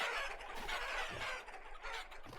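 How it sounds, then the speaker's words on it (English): Chickens and roosters in the Vintage Story video game cluck and squawk continuously in a lively flock, near and fairly loud, with overlapping calls and no talking. "Let's check in on our chickens over here."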